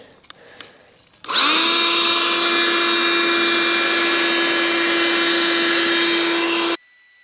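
An electric pump inflates a SOLI inflatable van canopy through its valve port. The pump switches on abruptly with a loud, steady whine and drone. It holds an even pitch for about five seconds, then cuts off sharply into quiet.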